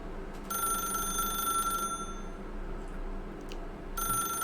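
A video game telephone rings with a bright, electronic bell tone: one long ring, a pause, then a second ring starting near the end, loud and close over a quiet background hum.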